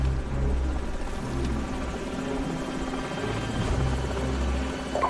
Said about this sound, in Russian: Вражеские вертолеты.